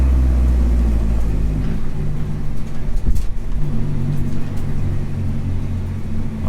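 Loud, continuous engine drone inside a 300hp Mini R55 Clubman race car under way, a steady rumbling roar with a brief surge near the middle, heard from the cabin.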